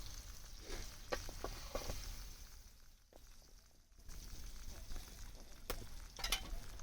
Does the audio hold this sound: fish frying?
yes